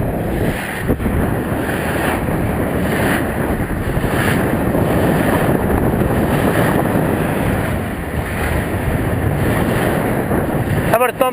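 A sailboat, the Karen Ann, under sail with steady wind rush and water washing along the hull, a continuous loud broadband roar throughout with a brief clatter near the end.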